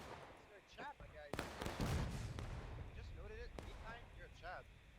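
A single heavy cannon boom in a video game battle, fairly distant and muffled, followed by a rumbling tail while people talk before and after.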